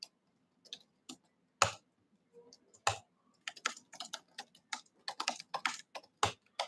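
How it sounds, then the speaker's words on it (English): Irregular bursts of computer keyboard typing, clicky keystrokes in quick runs separated by short pauses, close and fairly quiet. "I'm just typing in"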